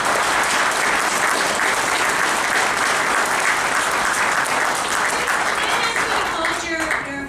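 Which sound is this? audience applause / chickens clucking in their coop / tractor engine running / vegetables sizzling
audience applause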